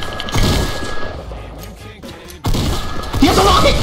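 Gunfire and rocket blasts from a Fortnite match, heavy bursts crowding the start and swelling again near the end after a brief lull, with players talking over the action.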